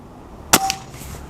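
A Hatsan Hydra air rifle fires a single 5.5 mm pellet through a 5.5 barrel past a chronograph: one sharp, close crack, followed by a short ring and a faint second tick.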